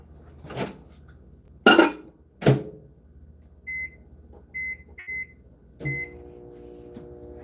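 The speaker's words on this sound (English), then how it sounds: "Go ahead and put this in the microwave so we can make some more." A microwave oven gets loaded with fishing-tackle material: a couple of sharp door and handling clunks, a series of short electronic beeps, then a steady low electrical hum as it starts running. No voices.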